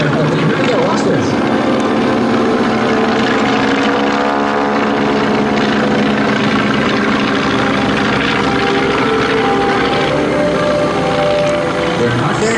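Vintage biplane primary trainers, a Super Stearman, a Waco ZPF-7 and a Fleet, fly past at an air show with a loud, continuous radial-engine and propeller drone, steady throughout with slight pitch shifts as they pass.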